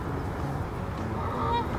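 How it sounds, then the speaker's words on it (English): A goose honking outdoors, a steady run of nasal honks across the clip at moderate, slightly distant level, with no one speaking. "You hear the goose?"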